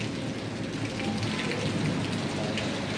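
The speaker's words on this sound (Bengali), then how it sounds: "খুব হঠাৎ করে ওয়েদার খারাপ হয়ে গেছে, প্রচন্ড ঝড় হচ্ছে।" Heavy storm rain pouring at a seaside beach resort, a dense, steady roar of rainfall and wind with no voices.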